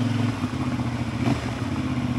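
A motorcycle rides a smooth paved asphalt road in Morocco on a hot day, its engine a steady close drone with road and wind rumble, no voices.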